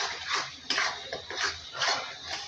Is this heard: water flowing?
no